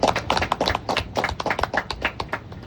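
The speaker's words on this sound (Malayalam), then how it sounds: "നല്ലൊരു ക്ലാപ്പ് കൊടുക്കാം." Applause from an audience at a community gathering in Kollam, a dense run of sharp hand claps lasting a few seconds, fairly close and steady, with no speech over it.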